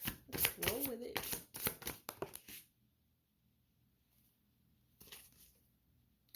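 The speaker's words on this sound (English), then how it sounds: "Like, I shuffled these multiple times." Tarot cards are shuffled in quick, crisp riffling bursts up close for a couple of seconds, then a short softer flutter of cards after a pause, with speech heard alongside.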